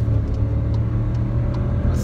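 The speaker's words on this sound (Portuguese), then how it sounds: "Vai sair acelerando, olha lá." A 2018 Volkswagen Polo with a manual gearbox accelerates, its steady engine rumble close and continuous for two seconds, with faint chatter inside the car.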